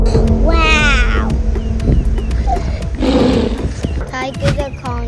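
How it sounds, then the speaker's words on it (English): A tiger in an animated children's animal program lets out loud roars and growls in bursts across several seconds, mixed with other animal calls and excited voices talking over them. "Ready to see the tiger?"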